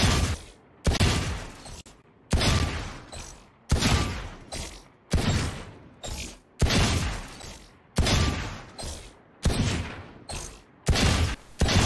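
Sheriff pistol gunshots in the Valorant video game, sharp loud reports fired singly and in quick pairs, each followed by a decaying tail, with brief silences between.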